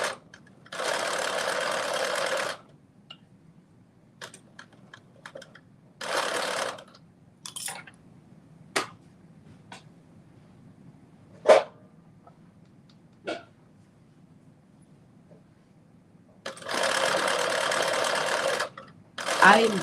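A sewing machine stitching a ruffle onto a caftan held on a dress form, running in three steady bursts separated by quieter gaps with scattered clicks and handling sounds.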